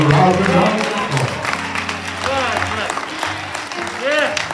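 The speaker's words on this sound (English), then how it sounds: "Give God a round of applause." A church congregation breaks into applause during a worship service. The clapping sits under a preacher's spoken and sung exclamations and scattered voices.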